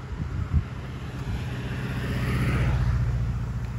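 Steady traffic rumble on a busy street heard while walking, cars passing at moderate distance with a continuous low engine and tire drone that builds slightly, with some wind on the microphone.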